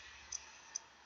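Two sharp, quiet computer mouse clicks, about half a second apart, while adding text to a shape in Word 2016, against faint steady background hiss.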